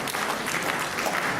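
A crowd at a community dinner claps steadily, a dense wash of applause with no pauses.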